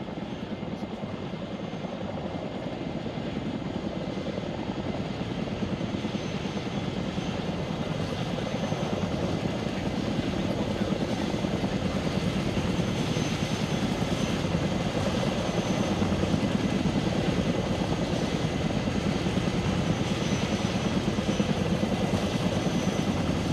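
In the Arma 3 video game, a helicopter flies close by with a steady, loud rotor thrum and engine whine that hold evenly throughout, and no one speaks over it.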